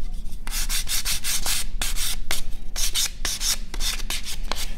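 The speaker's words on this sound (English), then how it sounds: "we're just going to give them a little hand sand around all our edges." Edges of wooden paddleboat pieces are sanded by hand in quick, rhythmic back-and-forth strokes, each a loud, close, gritty rasp with brief pauses between, and no voices.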